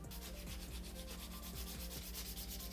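An electric nail file grinds steadily along the side walls of an acrylic stiletto nail, giving a continuous whirring, rubbing buzz with faint pitch shifts as pressure changes, close and with no one talking.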